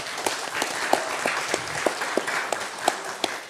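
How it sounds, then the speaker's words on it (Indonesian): Scattered applause from a small audience at a press conference, individual claps clearly spaced and moderately close, steady across a few seconds with some room murmur underneath. "Tepuk tangan buat Dr. Alvan."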